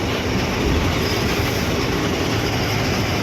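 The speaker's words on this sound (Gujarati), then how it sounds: "આ બાજુમાં છે મેટ્રો" A metro train in Bengaluru rumbles past close by, steady and loud, with a continuous rolling clatter of wheels on rails throughout.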